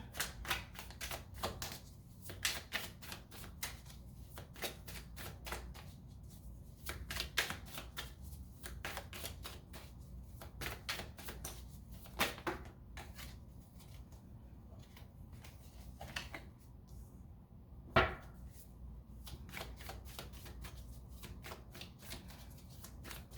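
Tarot cards shuffled by hand in a steady series of crisp riffling bursts, close and fairly quiet, with one sharper snap near the end and no voices.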